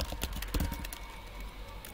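Quick bursts of typing on a small Mac laptop keyboard, close and fairly quiet, with a few sharp key clicks over a soft background hum.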